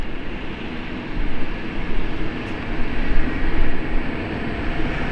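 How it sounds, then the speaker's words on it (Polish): A Stadler Flirt train passing near Frankfurt Hbf in January, heard as a continuous loud rumble and rolling wheel noise with swelling intensity, no talking. "O, widzicie, tutaj przejechał Stadler Flirt"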